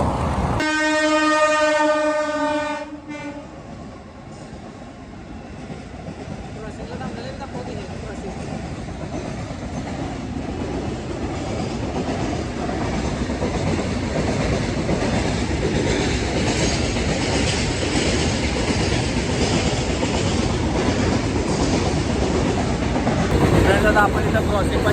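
A train passes a railway crossing, opening with a loud sustained horn blast and then giving way to a long, steady rumble and clatter of wagons rolling by close at hand.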